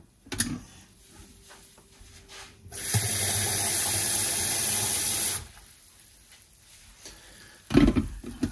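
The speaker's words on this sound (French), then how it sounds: "on va rajouter simplement un peu d'eau" Water poured from a tap into a mojo marinade mixture for pork, a steady rushing stream of about two and a half seconds between quieter kitchen handling noises, with a louder clatter near the end.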